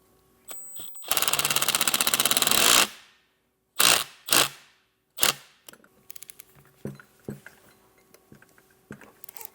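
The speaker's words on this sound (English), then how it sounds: "And I'll tighten the bolt that's securing our bag." A power tool tightens the bolt holding a Firestone Ride-Rite air bag on a 2022 Ford F-250, giving one loud close buzzing burst, then several short ratchety bursts and small metallic clicks and taps, with no talking.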